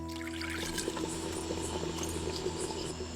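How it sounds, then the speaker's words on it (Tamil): Water poured into a pot of Kalyana sambar with cooked dal, a soft trickling, splashing pour over a steady background hum, fairly faint. "குழம்புக்கு தேவையான அளவு தண்ணியை ஊத்தி கொதிக்க வச்சிடலாம்"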